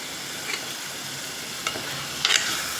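Cut paneer pieces frying in a pan, a steady sizzle and crackle with a few sharp pops and stirring scrapes, close and constant.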